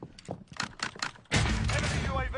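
Rapid gunfire in the battle royale shooter Call of Duty: Warzone, first as light scattered shots with voices, then a sudden loud, dense sustained burst of automatic fire that keeps going to the end.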